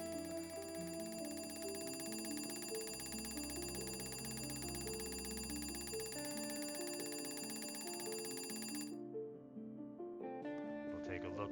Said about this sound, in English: the incessant alarm that continues to interrupt our peace